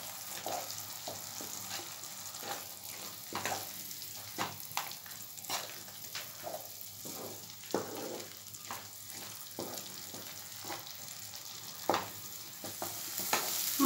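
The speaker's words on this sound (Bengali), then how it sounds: "যতক্ষণ না পর্যন্ত মশলার থেকে তেল বের হচ্ছে ততক্ষণ পর্যন্ত কিন্তু কষাবো" Spice masala frying in oil in a pan, a quiet steady sizzle with frequent soft scrapes and taps of a spoon stirring it over about fourteen seconds, no talking.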